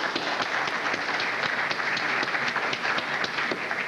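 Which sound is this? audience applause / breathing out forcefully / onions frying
audience applause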